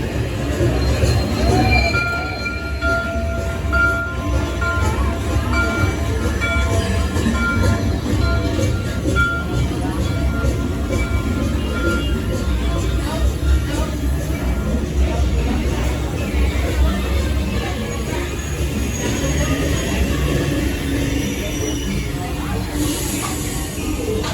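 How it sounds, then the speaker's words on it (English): A train rumbles into a station at Disney's Hollywood Studios steadily and close, with a low continuous roar and faint metallic squeals over it, while some background voices murmur. "And here comes our train."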